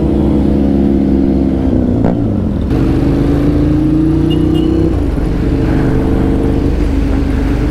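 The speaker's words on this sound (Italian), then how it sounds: "guardate quante cazzo di moto so davanti," Many motorcycles rumble together on a Gentleman's Ride group ride in Viterbo, a loud, steady engine drone with shifting pitch and occasional revs, heard close throughout.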